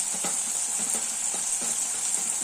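Cumin and onion frying in a pan: a steady bright sizzle with soft periodic clinks and stirring taps underneath, close and fairly quiet.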